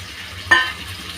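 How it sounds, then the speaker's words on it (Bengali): Washed new potatoes drop into a pan where spiced dried fish fries, giving one brief thud and a burst of sizzling over a steady low frying hiss. "এখন আমি 4-5টা নতুন আলু ধুয়ে পরিষ্কার করে"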